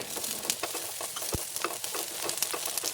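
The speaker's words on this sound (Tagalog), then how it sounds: "Kapag mainit na ito, gisahin na natin ang sibuyas at bawang." Onion and garlic sauté in hot oil in a pan, a steady close sizzle with crackling pops and a few light stirring scrapes throughout.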